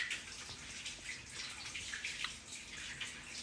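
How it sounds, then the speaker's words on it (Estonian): Lukewarm tap water runs steadily over a celery stalk, a soft continuous splashing hiss with small irregular spatters, fairly quiet and alone. "Leige veega varsseller samuti puhtaks."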